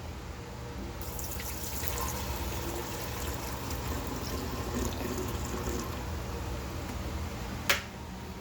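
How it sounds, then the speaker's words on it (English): Distilled white vinegar pours into the water reservoir of a Keurig K-Cup Supreme coffee maker, a steady low liquid trickle over a constant background hum, ending with a sharp click. "I'm just going to fill it with vinegar"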